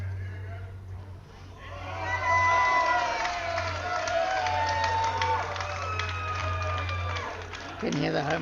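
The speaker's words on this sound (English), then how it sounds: "Can hear the home crowd itself." A home crowd in a packed bar at a bowls match, the JBA Trips final, cheers and shouts in a sustained swell that builds and holds loud for several seconds before fading, with a steady electrical hum underneath.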